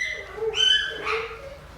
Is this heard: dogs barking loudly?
yes